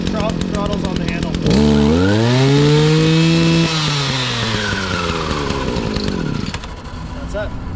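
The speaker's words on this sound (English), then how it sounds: "Once you hear it turn over, it might cut out right away or it might keep running." A small two-stroke engine, likely a chainsaw, fires on the pull and rises into a loud, close, buzzing idle, then revs and settles during a cabin cleanup in the woods.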